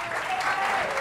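Studio audience applause on a Catalan spelling quiz show, a short, even burst of clapping filling the whole moment, moderately loud, with a faint tonal hum beneath.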